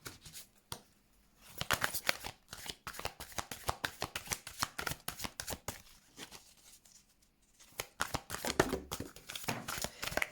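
Oracle cards shuffled by hand in quick bursts of crisp riffling and flicking, close and clear, pausing briefly midway before resuming, no voices.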